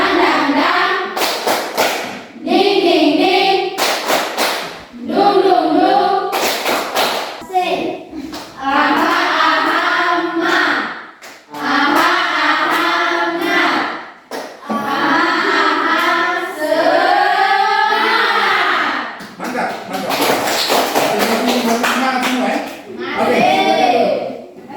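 Students in a classroom doing the tepuk semangat clapping chant, rhythmic bursts of claps mixed with loud group chanting and a teacher's voice, close and energetic throughout.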